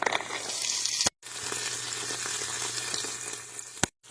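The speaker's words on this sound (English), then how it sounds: "The chorizo is searing quite nicely, guys." Chorizo sears in a pan over medium heat, giving a steady close broadband sizzle that runs unbroken apart from two brief silent cuts.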